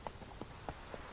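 Horse hooves clip-clop in The Witcher 3, a few quiet, evenly spaced hoofbeats over a steady background hum.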